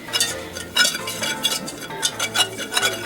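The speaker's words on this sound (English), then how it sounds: "I'm going to lift up on it a little bit so it doesn't sit on that heat while I'm stirring." A gritty, dough-like roux is stirred in a pan over heat, giving repeated scraping and soft clinks of utensil against metal with a faint sizzle underneath, close and rhythmic.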